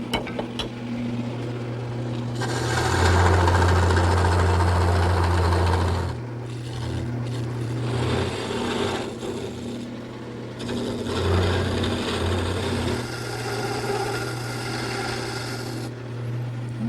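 A wood lathe spins a quilt-rack part while a larger gouge cuts the straight section between two beads: a steady motor hum with a rough, rasping cutting noise that swells and fades in several passes, close and without talk.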